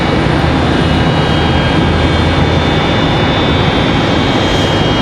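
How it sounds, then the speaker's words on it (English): A Delta jet arriving at Charlotte Douglas airport, a loud, steady broadband roar of engines with a constant high whine, unbroken throughout. "This is Delta 2070 coming in from Salt Lake City"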